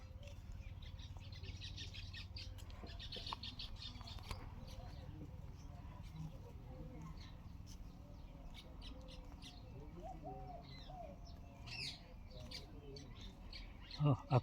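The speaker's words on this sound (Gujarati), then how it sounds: "પક્ષીઓનો અવાજ" Birds chirp and squawk around a quiet village house under coconut trees, scattered faint calls repeating across a soft, steady background hush.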